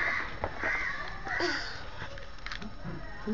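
A bird calls with harsh, crow-like caws, several short cries over faint background noise and some voices.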